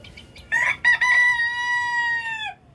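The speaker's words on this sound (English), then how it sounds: "I know you've all seen our chickens. We got probably 50 chickens." A rooster crows loudly and close by, one long drawn-out call that follows a few short clucks.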